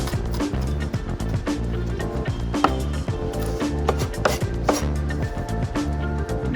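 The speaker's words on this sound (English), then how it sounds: "Next I'm going to finally chop some coriander to go in there." Fresh coriander being chopped with a knife on a board, a fast steady run of close, loud blade taps continuing for several seconds with no voice over it.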